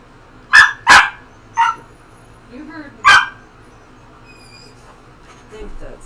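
A big dog lets out a few sharp, loud barks in quick succession near the start, then one more after a pause, with a faint whimper and a person speaking quietly around them.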